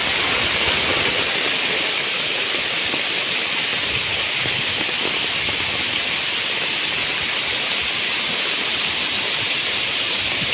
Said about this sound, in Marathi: जबरदस्त पाऊस